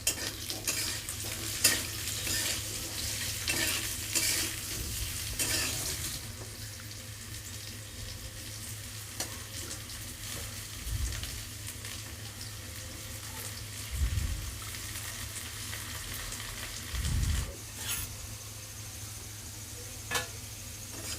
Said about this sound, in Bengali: ওই তেলের মধ্যেই আলুগুলো দিয়ে দিলাম আমি দিয়ে আমি আলুগুলোকে একটু ভেজে নেবো লাল লাল করে